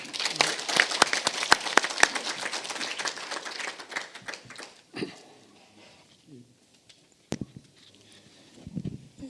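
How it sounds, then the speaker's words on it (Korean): An audience at a forum marking the October 4 inter-Korean summit declaration claps to welcome a speaker, dense applause at first that thins to scattered claps and then fades, with a few isolated taps and faint voices afterward. "여러분 박수로 환영해 주십시오."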